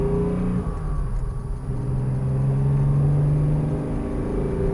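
A 1963 Jaguar 3.8 Mk II saloon, set up for performance, drives along with a steady, loud engine drone and low rumble, the pitch rising slightly as it pulls, with no talking.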